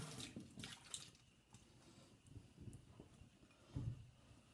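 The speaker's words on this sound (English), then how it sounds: "All I'm doing is rinsing it out." Tap water rinsing a shaving brush and bowl, soft splashing bursts and trickles coming and going in uneven pulses, fairly quiet and close, with no talk.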